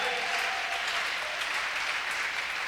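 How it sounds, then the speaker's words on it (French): A church congregation at a Sunday service claps together, a dense, loud, sustained wash of many hands applauding without pause for a few seconds. "qu'elle applaudisse en signe de reconnaissance envers Dieu"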